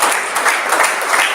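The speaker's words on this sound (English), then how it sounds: "let's give hand clap to the nursing students" Applause for nursing students fills a hall, with dense, steady hand clapping from a crowd, loud and continuous.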